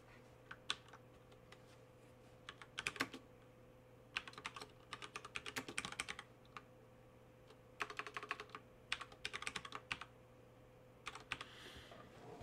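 Typing awk code on a computer keyboard, bursts of quick key clicks separated by short pauses, close and fairly quiet over a steady low hum.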